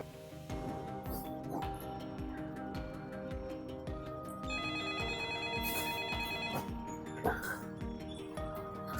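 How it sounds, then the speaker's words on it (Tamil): A mobile phone ringtone signals an incoming call in a Tamil family skit, a steady repeating tune playing throughout with background music layered underneath. "இவன் என்னத்தை இப்போ ஃபோன் பண்ணியிருக்கியா?"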